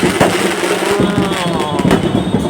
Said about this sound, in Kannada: ಇಲ್ಲಿ ಮಾತ್ರ ಹೆವಿ ಹೊಡಿತಾರೆ ಅನ್ಕೊಂಡ್ಬಿಡಿ ಪಟಾಕಿ.